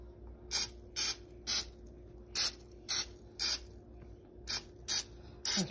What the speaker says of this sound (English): So I got my Pam olive oil, extra virgin olive oil, and I'm gonna spray.